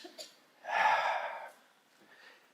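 A crowd in a hall at a morning gathering draws one long shared breath together, a soft, swelling rush of air lasting under a second, with a few fainter breaths around it and no talk.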